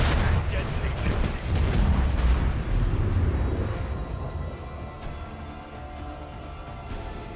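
Macro cannon barrage in Warhammer 40000: Rogue Trader, a deep, rolling roar of overlapping heavy blasts that is loud at first and then slowly fades into a lower mechanical rumble.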